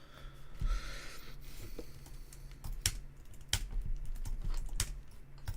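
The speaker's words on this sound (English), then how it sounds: "Ignore my fat fingers slapping against my laptop keyboard, please." Fingers tap and slap on a laptop keyboard in uneven bursts of sharp, close clicks, with some louder strikes among them and no voices.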